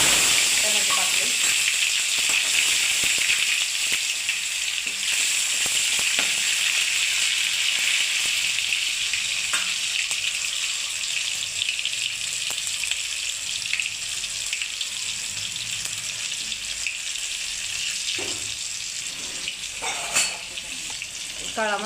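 Tomatoes fry in hot oil with mustard seeds and cumin in a home kitchen, giving a loud, steady sizzle and crackle that runs unbroken, with occasional stirring scrapes and no talking.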